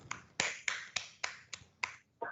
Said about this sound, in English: giving her a round of applause